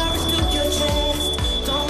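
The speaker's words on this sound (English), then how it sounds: "I think that might be the fire alarm, ladies and gentlemen." Fire alarm sounds in a television studio, a loud sustained electronic tone with a pulsing edge, ringing continuously over a busy, noisy room.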